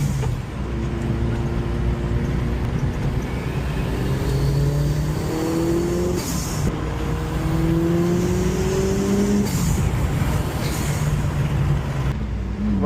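A 300 kW Evo car driving up a rough mountain road, its engine droning loudly with rising revs through repeated gear changes, heard from inside the cabin with no talking.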